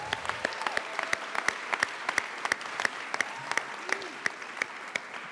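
Concert audience clapping at a Dr. Martin Luther King Jr. celebration, a burst of dense, crisp applause from a crowd with sharp individual claps standing out over the steady patter.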